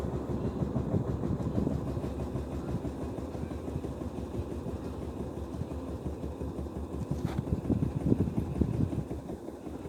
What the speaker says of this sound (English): it sounds like it's tapping the metal over here to the right